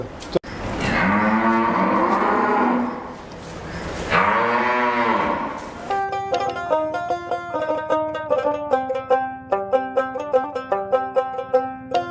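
Holstein Friesian cows moo loudly at close range on a farm, two long drawn-out calls, followed by a rhythmic series of repeated metallic tones with a steady beat.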